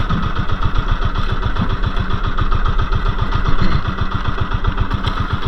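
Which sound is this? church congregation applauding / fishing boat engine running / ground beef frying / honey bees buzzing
fishing boat engine running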